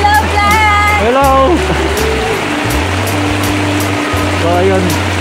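Floodwater rushing through a flooded street in Upper Nawasa, a steady broadband wash of flowing water throughout, with a low pump-like hum and people talking and calling out over it.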